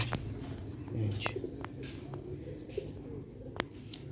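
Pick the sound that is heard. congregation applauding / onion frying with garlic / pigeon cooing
pigeon cooing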